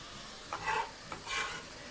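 Chopped vegetables including leeks tipped into sizzling melted butter, giving two quick bursts of clattering hiss a moment apart over a low steady background, close and fairly quiet.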